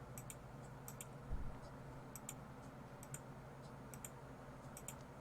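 Faint, crisp mouse clicks tick out in a loose, steady rhythm of about a click a second over a soft room hum.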